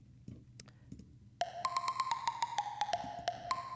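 Percussive FM8 synth ping run through KR reverb, a fast repeating pattern of bright pitched hits with a reverberant tail, entering after a quiet low rumble and sounding moderately loud and close.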